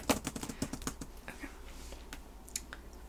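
Quick bursts of keystrokes on a computer keyboard at a doctor's office check-in, a dense run of taps early on, then sparser clicks, close and quiet with no talking.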